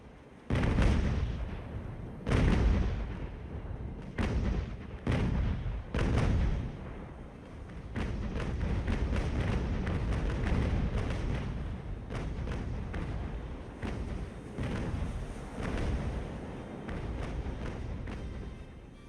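Broadside ship cannons boom repeatedly during a naval battle against a Spanish galleon fortress in Ultimate Admiral: Age of Sail, heavy deep blasts that come in clusters and then settle into a rolling barrage.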